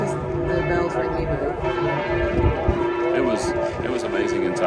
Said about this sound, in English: Just the bells ringing.